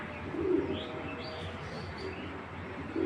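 Racer pigeons cooing at a large pigeon farm in Bangladesh, a steady murmur of soft coos and chirps from many birds close by, with low broadband ambience and no talk.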